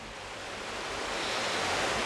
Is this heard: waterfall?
yes